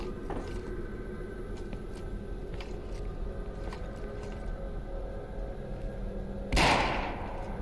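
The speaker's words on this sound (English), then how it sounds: "I just shoot out that window" A single sharp, loud gunshot fired out a window in the game S&box, cracking suddenly near the end after a long stretch of quiet ambient hum and a brief echoing tail.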